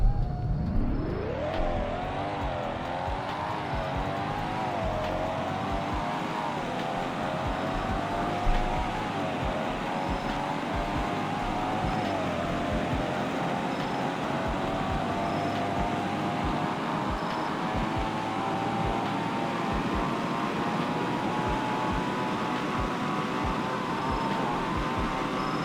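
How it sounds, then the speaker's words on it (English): A Maserati GranTurismo accelerates at full throttle, the engine note climbing steadily through several gear changes into a sustained loud, high drone that continues for over twenty seconds with no talking. "now next up is the Maserati Gran Turismo speed test"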